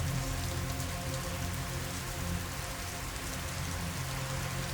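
Steady rain patters on a surface in a dense, unbroken wash, with no voices and no thunder.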